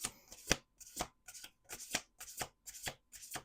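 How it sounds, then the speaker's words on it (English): Cards from The Price of Love Oracle deck are shuffled by hand in quick, crisp bursts, about seven separate riffles in a few seconds, close and fairly quiet with no talking. "Let's do 2 more shuffles."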